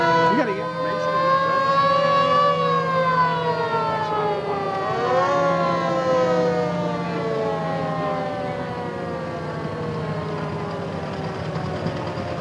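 An old Lebanon fire engine representing the Lions Club sounds its siren in a town bicentennial parade, a loud layered mechanical wail that holds steady, dips and slowly winds down over a crowd murmur, with an announcer talking over it.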